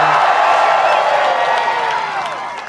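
A large crowd at a Trump rally in Iowa for the launch of America's 250th anniversary celebration cheers loudly and steadily, with whistles and whoops above the roar that eases slightly toward the end.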